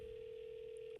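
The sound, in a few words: telephone ringing on a call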